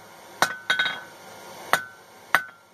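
Hammer blows on hot steel being flattened while forging a hand tool, four sharp ringing metallic strikes with a quick double hit, close and loud with short decays between.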